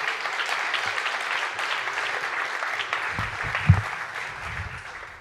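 Hall audience at a science-communication contest applauds a doctoral researcher as she is introduced, a sustained even wash of many hands clapping at moderate loudness, with a few lower thumps and shuffles near the end.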